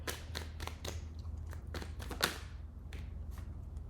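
Tarot cards are riffled and shuffled on a small table in a rapid series of crisp, papery snaps and flutters, with one louder slap partway through, close and clear with no talking.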